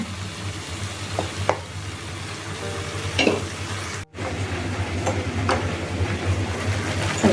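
Paneer and vegetables fry in a pan on the stove for a paneer veggie stir fry, a steady close sizzle with a low hum beneath, broken by a few spoon scrapes and one brief cut partway through.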